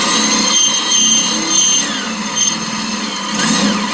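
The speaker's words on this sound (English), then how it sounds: "I'll drill some holes through the corners." A power drill bores holes through car bodywork corners, a loud high whine rising and dipping in short bursts, close by with no talking.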